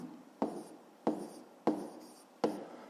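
Someone writes by hand, likely working a fifth-grade maths exercise, making four short, scratchy strokes at an uneven pace. The strokes are quiet and close, with no talking.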